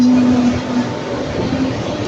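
A Pendolino train passes through Crewe station with a loud, steady rumbling roar, close by, holding at high level across the whole moment.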